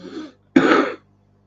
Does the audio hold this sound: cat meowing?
no